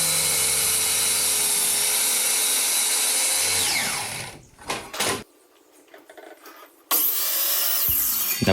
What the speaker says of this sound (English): point out that this is indeed a sliding miter saw, and I could have just slid it to make that cut